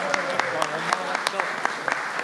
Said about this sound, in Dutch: Kijk eens, applaus voor de mannen.